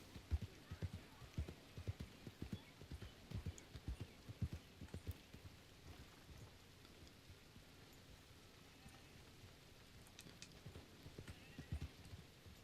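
Horse hooves clop in a steady rhythm in the Red Dead Redemption video game, dense at first and then sparser, fairly quiet with faint background ambience.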